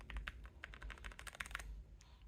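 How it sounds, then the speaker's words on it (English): Quick clicky keystrokes on a Kisnt 34-key mechanical number pad, about a dozen close, crisp taps in an irregular burst before falling quiet. "As you can see, I'm typing 7. It works."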